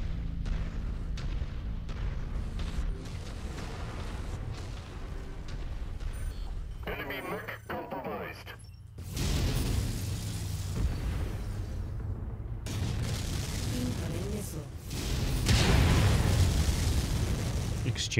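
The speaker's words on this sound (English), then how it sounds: "Exchanging missiles." Battlemechs trade missile fire in MechWarrior, the Zeus long-range build in a Dragon's Gambit mission, with dense rumbling launches and explosive booms rolling over a constant engine hum, swelling into louder volleys near the end, while someone talks over it.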